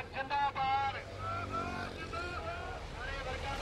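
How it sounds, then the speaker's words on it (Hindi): Farmers' tractor convoy rolls along a highway toward Delhi during a protest, a steady loud engine drone with passing motor whine and horn-like tones, while a reporter talks over it. "आप मेरे पीछे देख सकते हैं कि ट्रैक्टरों का काफिला जो है वो किस तरह से है दिल्ली की तरफ बढ़ रहा है"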